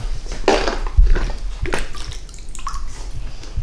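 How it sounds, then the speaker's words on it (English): Cupfuls of water poured onto a hybrid car to rinse it, giving short splashing sloshes and drips close by, with a brief knock partway through and no talking. "Dip your cup in the water and just kind of pour it on there to rinse it all off."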